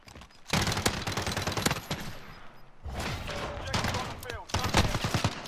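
Rapid automatic gunfire in the shooter game Modern Warfare, loud dense bursts in several separate volleys with short pauses between them, and a voice briefly audible beneath the shooting.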